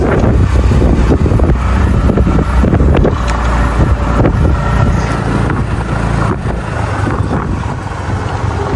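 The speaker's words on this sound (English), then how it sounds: "He's driving the golf cart." An open golf cart driving along a horse show grounds, with steady wind buffeting and a continuous low motor and road rumble running the whole time, loud and close.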